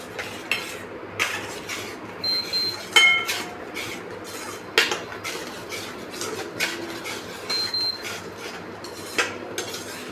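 A spoon stirs chickpea soup in a pot, scraping and clinking against the metal sides in irregular strokes up close, with no voices.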